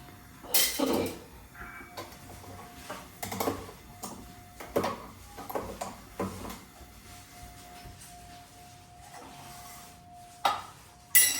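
A pot being set on the stove for mixed vegetable soup: scattered clanks, knocks and scrapes of metal cookware, close and moderately loud, separated by quieter stretches with a steady faint hum and no talking.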